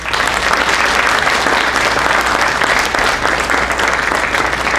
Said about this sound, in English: just give them a round of applause again